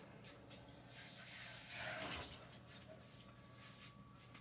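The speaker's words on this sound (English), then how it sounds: "Okay, I'm going to rinse this bowl out." Running water hissing into a bowl as it is rinsed, a soft, close steady spray that swells for a couple of seconds and then settles back to a faint trickle.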